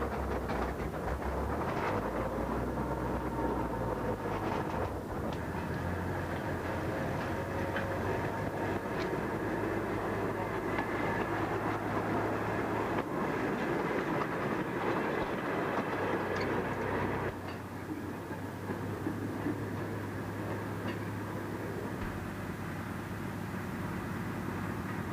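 A small Wickham railcar running along a British railway, a steady rumbling drone with low engine hum and clattering wheels that shifts and eases slightly near the end, no voices.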